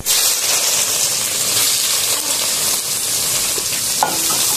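Poi saag leaves fry in a pan with a loud, steady sizzle and hiss, broken by occasional scrapes and clinks of stirring; no talking.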